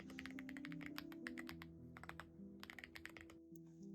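Someone types on a computer keyboard in quick, fairly soft runs of keystrokes with a few short breaks, close to the listener and with no one speaking.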